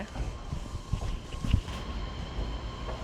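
Steady rumble of a train running, with rolling rail noise and a few louder knocks and clanks from the carriage, heard from inside the coach at moderate level with no speech.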